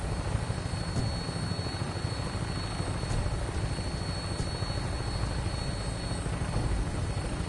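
A Vertibird helicopter from Fallout 4 holds a steady, loud rotor and engine drone from start to finish, with the whine and rumble staying constant and close.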